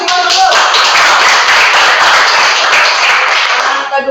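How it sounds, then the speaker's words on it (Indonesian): Audience applause in an Indonesian classroom or teaching session, a steady dense clapping from many hands sustained loudly for about four seconds. "kasih tepuk dulu."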